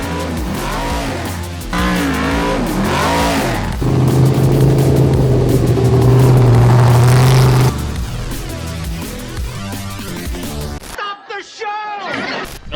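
A champion trophy truck and the Megalodon race on a dirt drag course, their engines roaring loud and close, with a sustained high revving whine in the middle before the noise tapers off.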